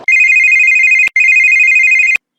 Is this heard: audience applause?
no